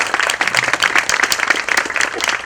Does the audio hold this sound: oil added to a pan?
no